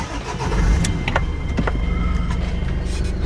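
A Renault van's engine starts up close by, a steady low rumble with a few sharp mechanical clicks and knocks on top, and no voices.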